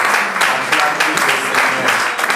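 A church congregation claps and applauds steadily, a dense, loud wash of many hands with rhythmic surges, filling the room without any clear voice on top.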